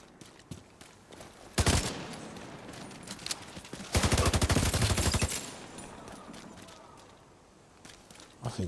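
Gunfire in The Division 2: a short burst of rapid shots, then a longer sustained automatic volley, with scattered single cracks around them, loud and close over a low game background.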